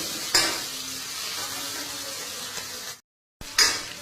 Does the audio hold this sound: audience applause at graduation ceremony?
no